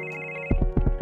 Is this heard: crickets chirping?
no